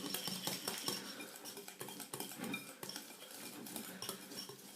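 Softened butter beaten in a bowl until creamy, with repeated clinking and scraping of a utensil against the bowl in a steady, brisk rhythm, close and fairly loud, no talking.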